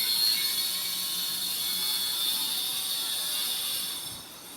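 A sewing machine runs in one steady, even mechanical whir while stitching a semi Patiala salwar, close and continuous with no talking, easing off slightly at the very end.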